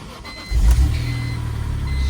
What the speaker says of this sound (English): let's do a cold start here